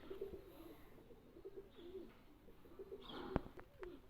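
Teddy pigeons cooing in a loft, soft low repeated coos in a loose rhythm, several birds overlapping, quiet and close, with a sharp click near the end.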